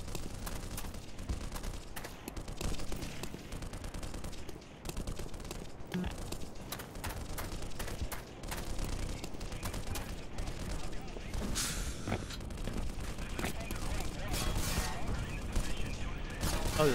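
Continuous dense crackle of rapid gunfire and explosions in the video game Black Mesa, chapter Surface Tension, steady and fairly loud throughout with no clear pauses.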